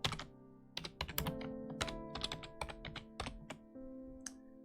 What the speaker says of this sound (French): Donc je vais écrire un texte